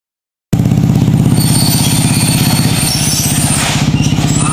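After a moment of silence, a motorcycle engine starts idling loudly nearby, a steady throbbing putter that continues without break.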